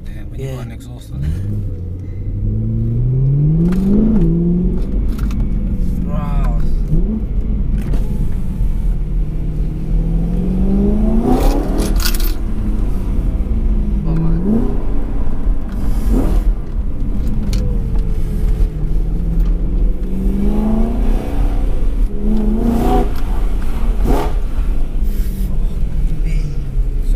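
A BMW M3 engine revs repeatedly, each rise ending in a loud exhaust roar, with a deep idle rumble between bursts and voices talking over it.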